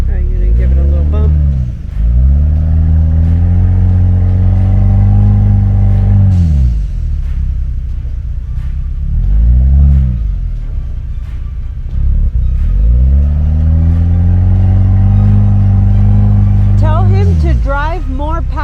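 An overlanding vehicle's engine revs hard in repeated surges while climbing over a rock on a trail near the Grand Canyon in Arizona, loud and close, with rising and falling pitch and people talking in between.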